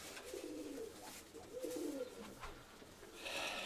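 Pigeons kept for racing coo in a dovecote, several soft rolling coos close by, with faint chirps and background shuffling.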